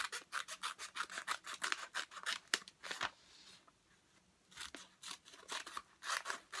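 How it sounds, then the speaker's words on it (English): Scissors snip through a strip of very thin paper cut from a bag in quick, rhythmic close-up cuts, pausing briefly midway before resuming, with no talking. "So you just cut your strip off of your bag."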